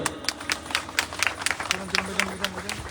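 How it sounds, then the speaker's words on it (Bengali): An audience claps together in steady, rhythmic bursts at a senior citizens' aid distribution event in Balurghat, with a voice speaking over the applause near the end. "একবার জোরে হাততালি হবে"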